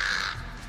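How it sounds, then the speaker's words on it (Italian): A crow gives a single harsh caw in a film scene, close and clear, fading quickly into low background rumble. "Come è entrato quell'uccello?"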